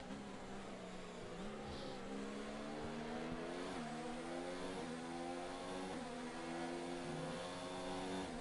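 Racing-game race cars rev through the last two turns of a French Grand Prix circuit, engine pitch rising and falling in repeated sweeping shifts, steady and fairly faint with no talk.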